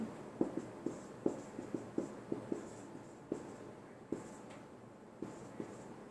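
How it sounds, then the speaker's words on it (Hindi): Chalk or marker taps and strokes on a classroom board while a physics derivation is written out, giving a run of short, light, evenly spaced ticks up close over a quiet room hum. "इसको मैं थोड़ा सा ऊपर करके लिख देता हूं"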